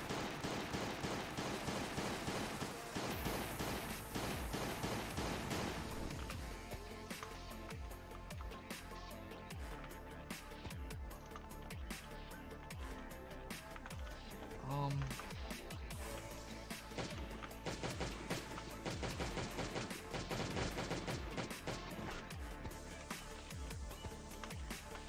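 Gunfire from a gun in a video game, steady repeated shots running through a busy game soundscape with footsteps and effects, at moderate loudness with no clear pauses.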